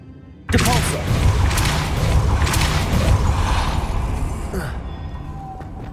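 The Depulso spell cast in Hogwarts Legacy lands as a sudden loud magical whoosh and thump, followed by a sustained rumbling, clattering wash that gradually eases off.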